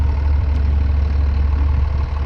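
A 7810 tractor engine idles nearby with a steady, loud low-pitched rumble and an even throb that continues unbroken, with no voices over it.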